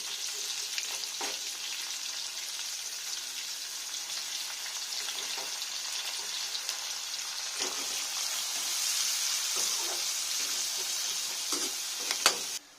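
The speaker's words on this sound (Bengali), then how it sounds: "এবারে পেঁয়াজ আমি দুটো কুচে রেখেছিলাম, পেঁয়াজগুলো দিয়ে দিলাম। একটু লাল লাল করে ভেজে তুলে নেব।" Chopped onions fry in oil in a wok with a steady, soft sizzle, broken by occasional clinks and stirring scrapes, continuing evenly for the whole stretch.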